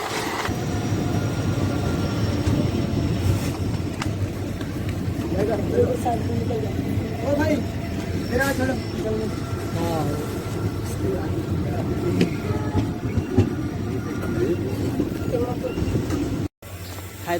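The Hundry Express, train 17027, runs on the rails between Umdanagar and Kurnool City. Steady wheel and carriage rumble with rhythmic clatter is heard from on board, and someone talks over it.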